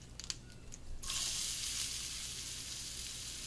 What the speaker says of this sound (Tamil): வெங்காயத்தை நீங்கள் இதில் போட்டுடணும்.